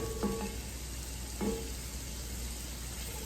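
Vegetables browning in a pan give a faint, steady sizzle, broken by two short clinks of stirring near the start and near the middle, with no voices.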